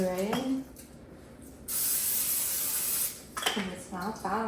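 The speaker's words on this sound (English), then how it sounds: "Turn the pan on and add my onion to the pan with a little bit of spray." Cooking spray hisses steadily for about a second and a half onto a heated pan holding chopped onion, close and loud, with someone talking before and after.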